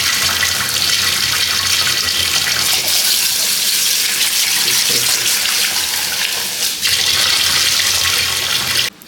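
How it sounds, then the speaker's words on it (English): Cold tap water runs steadily over rice being rinsed in a pot, a loud, close, continuous splashing hiss that shifts in tone midway as the stream strikes differently, then cuts off abruptly at the end. "we're just gonna wash out our rice. Use cold water because it helps draw the starch out a little bit better"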